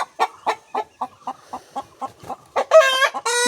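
Native country chickens kept as pets give a run of about a dozen short, evenly spaced clucks, close and clear, then a loud rooster crow breaks in at the end.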